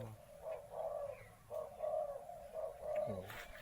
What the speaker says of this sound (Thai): เนี่ยนกต่อทั้งนั้นนะครับ